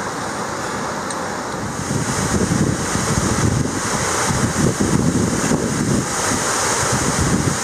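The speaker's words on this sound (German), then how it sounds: "Unter dem mächtigen Wasserfall" A mighty waterfall pours at the end of a stream, a loud, dense, continuous roar of falling water that swells slightly midway, with no voices.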